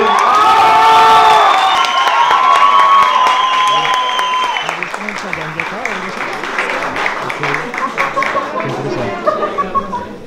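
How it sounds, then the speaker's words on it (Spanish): A large stand-up comedy audience applauds and cheers loudly, with shouts and whistles, the clapping thinning into scattered claps toward the end. "quiero que por el momento lo reciban con un muy fuerte aplauso al joven"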